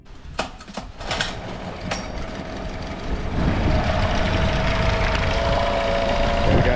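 A cheap outboard motor, just repaired, runs steadily after a few sharp clicks and knocks, settling into a loud, even drone with a rising whine near the end.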